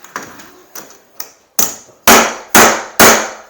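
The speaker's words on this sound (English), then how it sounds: "So when that gets hit with the hammer, it like clamps it down into the drywall like" A hammer strikes a metal corner bead crimping tool to clamp the bead into drywall. About eight sharp metallic blows land in an irregular rhythm, light taps first and then three loud, ringing hits close by, with no talking.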